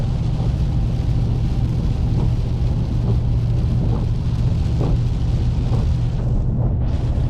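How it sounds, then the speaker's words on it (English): Steady low rumble of a car interior on the road near Orange Beach, Alabama, with a constant wash of rain and spray, evenly loud throughout with no voices. "Driving through rain. One rain cloud after another."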